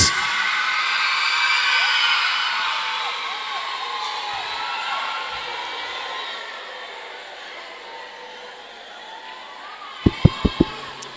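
Audience at a school house debate competition cheering and whooping in a sustained, broad crowd roar that gradually eases, ending with a few sharp claps.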